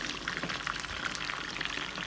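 Honey chicken pieces fry in hot oil, giving a faint, steady crackle and fizz with scattered small pops and no talk.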